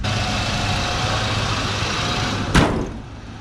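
A 1978 Ford F100 truck engine runs steadily with a low rumble, heard close and loud, with a brief sharp knock or thump near the end as it starts driving off.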